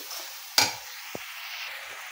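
Spice masala with turmeric and a little water for village-style mutton bhuna, stirred in a pan: a soft steady sizzle with one sharp spoon-against-pan knock and a lighter tap after, no talk.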